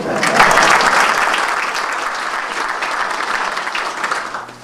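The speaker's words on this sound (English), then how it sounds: "deserves a round of applause" Audience applause at a historical commemoration event in Portsmouth, Rhode Island: a dense, sustained round of clapping from a crowd, loud at first and gradually easing while holding steady to the end.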